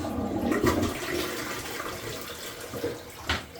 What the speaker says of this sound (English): so we're gonna flush it.